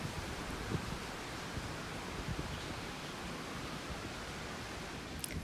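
Gusty evening wind blows outdoors as a faint, steady broadband rush with soft rustling and small buffeting peaks.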